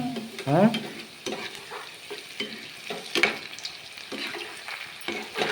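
Cauliflower gobi pieces frying in hot oil in a village-style home kitchen, with steady sizzling broken by scraping stirs and clinks of a utensil against the pan, close and moderately loud, with no talk.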